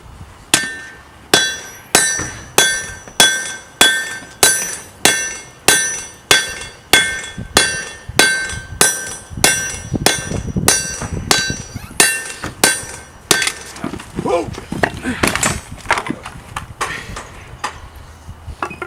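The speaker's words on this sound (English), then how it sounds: "This is 150-pound anvil." Hammer strikes ringing on a 150-pound anvil while working metal, a regular series of sharp bright clangs at close range, slowing into heavier, more irregular blows toward the end.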